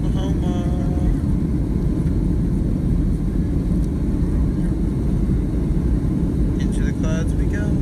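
A Southwest airliner takes off from Tulsa, heard from inside the cabin as a loud, steady, low engine roar throughout, with a brief voice faintly above it.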